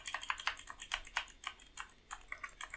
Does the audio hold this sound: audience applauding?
no